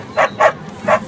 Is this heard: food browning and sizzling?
no